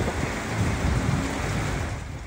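Strong wind and heavy rain from Super Typhoon Pepito batter Baguio City, a dense roaring wash of gusts and downpour, loud and continuous with no voices.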